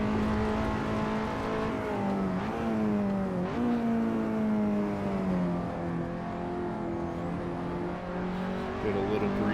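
A KTM X-Bow race car engine at Silverstone in a racing video game drones steadily, pitch dipping and climbing through gear changes and revs under continuous commentary.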